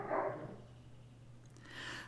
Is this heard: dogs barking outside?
yes